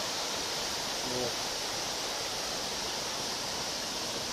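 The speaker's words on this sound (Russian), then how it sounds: "Вода по нему бежит." Water running steadily along a diversion channel near forest huts, a constant broadband rush like a small stream, with a brief spoken word over it.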